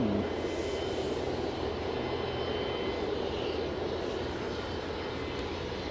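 ATR turboprop airliner at Aberdeen heliport, a steady distant engine drone and broadband rumble holding evenly throughout with no talk.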